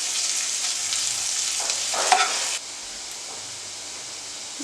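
Ginger, garlic and green chillies fry in butter in a pan, giving a bright, steady sizzle with a brief stirring clatter before the hiss suddenly drops to a quieter simmer.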